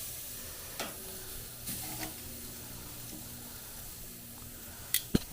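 Meat sides sear on a Walmart Expert Grill kamado grill with a faint, steady sizzle, broken by a few soft clicks and a sharper knock near the end.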